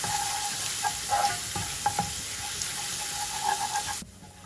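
Stirring masala potatoes with curry leaves and grated garlic in a pan off the heat, a soft continuous sizzle with scraping and light clinks of the spoon, ending abruptly into near silence.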